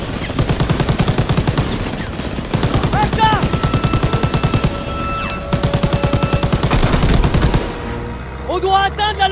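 Sustained rapid machine-gun bursts from the Call of Duty WWII video game, loud and near, in long rattling volleys with brief pauses between them and voices shouting through parts of the firefight.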